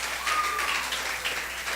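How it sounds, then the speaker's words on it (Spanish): A church congregation applauds in a short burst of dense clapping with a brief tonal note at the start, and no voices stand out. "¿Cuánto le dan un fuerte aplauso al Señor?"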